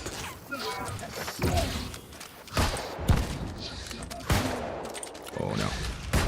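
Gunfire and a grenade blast in the New World video game sound as a dense, chaotic run of sharp shots and thuds. A voice talks over the combat.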